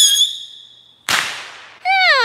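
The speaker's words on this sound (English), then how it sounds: "Oh, I dropped a firework." A dropped firework goes off at close range with a loud burst and crackling hiss, between shrill whistling tones before and after.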